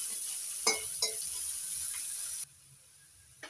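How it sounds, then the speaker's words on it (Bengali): Chopped onions with garlic sizzle steadily in hot oil while a spatula scrapes and stirs with a few short clacks, then the frying fades to a softer hiss. "পেঁয়াজ কুচি একটু ভেজে নেব, নাড়াচাড়া করে ভেজে নিচ্ছি।"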